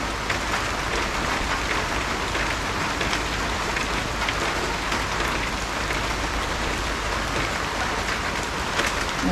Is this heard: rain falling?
yes